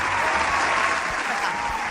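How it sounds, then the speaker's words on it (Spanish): A studio audience claps for teachers on a live variety show, a dense, loud burst of applause held steadily for about two seconds. "Un aplauso para los maestros, por favor."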